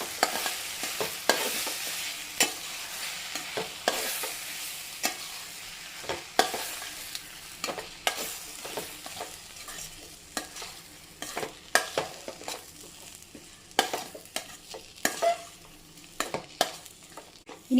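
A spinach and green gram mixture is stirred in a hot pan, giving a continuous close sizzle with frequent, uneven spatula scrapes and knocks throughout.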